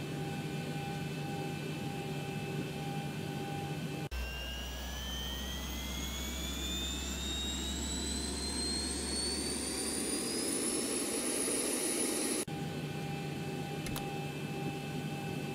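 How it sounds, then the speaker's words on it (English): A large airliner's auxiliary power unit spools up, its whine rising steadily in pitch over a low rumble for several seconds before settling, heard alone against a constant background hum. "Now turn on the APU, and you will see the exhaust gas temperature gauge go up."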